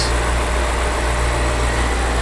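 A 2007 BMW X5 engine idles steadily up close, a smooth continuous rumble with no change in pace and no voices.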